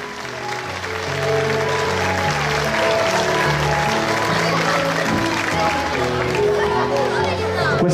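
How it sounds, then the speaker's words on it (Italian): An audience at a children's music show in Petacciato claps for the children, applause swelling after a second and holding steady while music with a low repeating bass line plays underneath. "Vorrei che faceste un grandissimo applauso a questi bambini"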